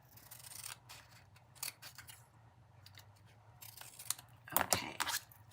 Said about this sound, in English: Let's just trim that little bit off.